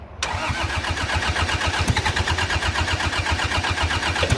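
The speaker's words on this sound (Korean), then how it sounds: "일단 시동을 걸어보겠습니다" An old diesel tractor engine, over thirty years old, cranks repeatedly in a loud, steady rhythmic chug without catching, as it fails to start without preheating.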